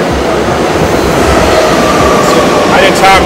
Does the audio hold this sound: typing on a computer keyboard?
no